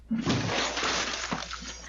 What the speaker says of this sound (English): The glass exploding outward as her husband ran out